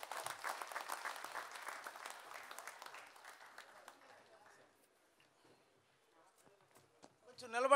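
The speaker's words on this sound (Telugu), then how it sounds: "చప్పట్లు కొట్టండి అందరూ." A book-launch audience applauds, the clapping fairly faint and distant for about four seconds before thinning out into scattered claps, with a voice rising at the very end.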